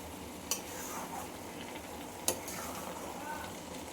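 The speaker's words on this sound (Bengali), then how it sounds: "এটা ভালো করে মিশিয়ে নিই" Sticky mango pickle mixture with sugar being stirred in a pan, a soft continuous scraping and gentle sizzle with two sharp utensil clicks against the metal, close and steady with no talk.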